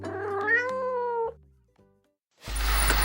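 A human voice mimics a cat's meow with a long, wavering, rising-and-falling cry, followed by a short pause and then a burst of loud, broadband noise.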